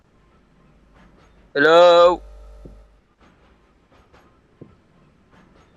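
A train horn in a horror video game blares in one loud, sustained, harmonic blast lasting about half a second, after a quiet stretch with a faint rumble beneath. Brief speech comes before it and scattered faint sounds follow.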